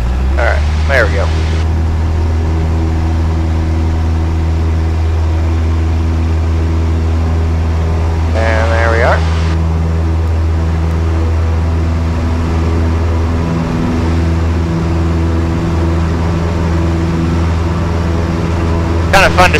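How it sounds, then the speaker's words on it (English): Cessna light airplane taking off from runway 21: a steady, loud piston engine and propeller drone that holds throughout, with brief bursts of radio or cabin noise. "Kind of fun to see how fast we take off here."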